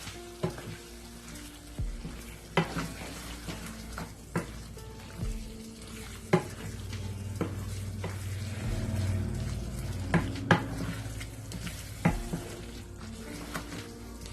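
Beef keema karahi fries in a wok with a constant sizzle, while a spoon stirs and knocks against the metal in irregular sharp clanks, the frying swelling louder midway; close and with no voices.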